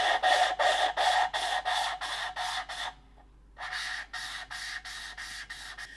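Lapping a valve on a Volvo 530 cylinder head by twisting a hose back and forth: regular rasping grinding strokes, about eight in a row, a short pause, then more strokes, close and steady with no speech.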